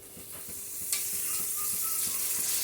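Fried spice masala sizzles steadily in a pan as a spoonful of beaten sour yogurt goes in, with a brief splash-like burst partway through before the crackling hiss settles back to a continuous sizzle.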